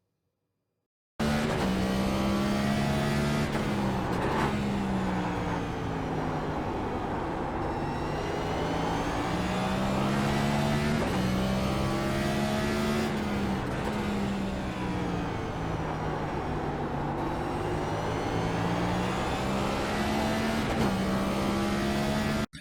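Race car engine in iRacing lapping Martinsville, a steady loud drone that rises and falls in pitch through each short straight and tight corner, repeating several times over a continuous run with no talk.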